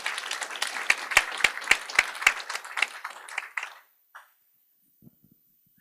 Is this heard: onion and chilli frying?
no